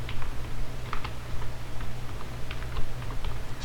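A computer keyboard clicks in quick irregular taps during coding, the keystrokes light and close over a low steady hum, with no talk.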